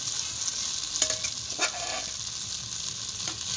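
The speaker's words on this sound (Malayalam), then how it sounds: "ഒന്ന് ഉടച്ചിട്ട് വഴറ്റിയെടുക്കാം" Pumpkin being mashed and sautéed in ghee for Kerala-style mathanga payasam: a steady low sizzle with a few soft scraping stirs and taps from the spoon, quiet and with no talking.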